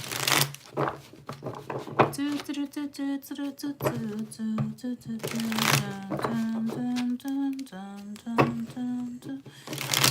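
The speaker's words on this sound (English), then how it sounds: "Let me just shuffle the cards and clear the energy." A deck of cards is shuffled in quick, crisp bursts of riffling and tapping while someone talks steadily over the sound.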